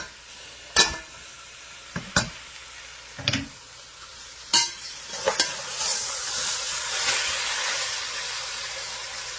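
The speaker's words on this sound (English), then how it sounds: "I'm going to go ahead and put our tomatoes in" Tomatoes drop into a Saladmaster pot for vegan tomato soup, with several sharp clatters of utensil against pot followed by a steady sizzle and hiss of cooking, close and moderately loud, no talking.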